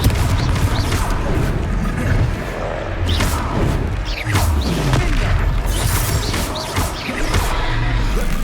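Confringo blasting spells in the Hogwarts Legacy video game, loud crackling bursts and booming impacts layered over dense mechanical battle noise, continuous and close.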